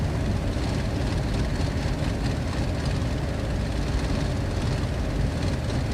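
A Messerschmitt Bf-109 G6 fighter from FlyingIron Simulations in Microsoft Flight Simulator roars through its takeoff run, a loud, steady, dense engine drone that holds unbroken at close range for the whole stretch.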